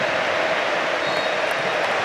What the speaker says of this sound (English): Listen to the applause for Alexis McAllister.